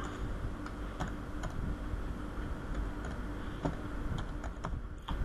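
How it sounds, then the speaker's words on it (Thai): Keys clack on a computer keyboard in short irregular bursts, distinct light taps over a steady low room hum, close and moderately quiet with no talking. "ตรงนี้ผมก็พิมพ์ไปเลยนะครับวันอังคารนะครับ"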